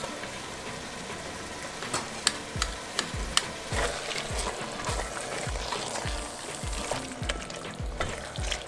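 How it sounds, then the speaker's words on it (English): Sliced whole tomatoes going into a hot pan for tomato and sourdough soup, a steady close sizzle with a run of rhythmic scraping stirs and occasional clicks, no talk. "I'm going to quickly slice up my tomatoes and add them right to the pan"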